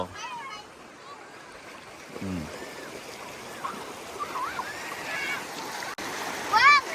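Floodwater from the overflowing Xe Don river rushing into a village in Champasak, Laos, heard as a steady, moderate wash of flowing water with occasional splashes and faint chirps.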